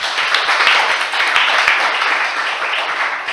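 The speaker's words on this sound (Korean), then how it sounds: "마지막 발표자 큰 박수로 맞이해 주시기 바랍니다." An audience at a festival presentation breaks into steady, dense applause and clapping, loud and continuous throughout with no pauses.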